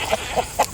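A rooster named Rocky, resembling a barred rock, makes several short clucking calls at a steady rhythm, close by and moderately loud, with no talking.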